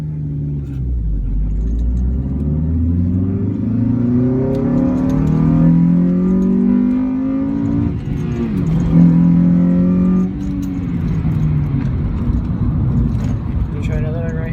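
2010 Honda Civic Si with a DC Sports short ram intake revving hard, the engine note climbing in pitch through two loud rising pulls and dropping back, close by, with people talking over it.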